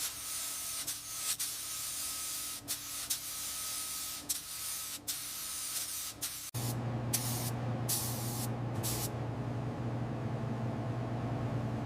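Spray paint hissing onto the mainframe tubes of a 50-year-old classic motorcycle in factory red, a continuous close hiss that shifts in tone partway through, broken by short pauses and puffs.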